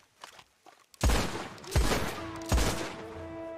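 Video game gunfire: three loud, sharp shots evenly spaced about three-quarters of a second apart, each leaving a short echoing tail, preceded by a few faint soft taps.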